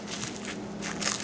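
Modeling chocolate is unwrapped from its wrap, giving soft, close crinkling and rustling that swells into a brief louder crackle at the end.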